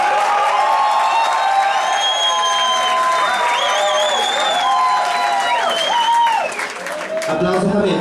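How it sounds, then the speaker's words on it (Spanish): Studio audience at a Spanish-language talent show applauds and cheers for a contestant, sustained clapping with high shouts and whoops throughout, loud and close, dipping briefly near the end. "Aplausos también para Víctor Villana"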